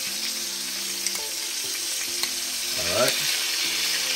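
Sauce thickened with cornstarch sizzles steadily in a hot pan while being stirred, a continuous bright crackle with a few soft scraping strokes, close and alone.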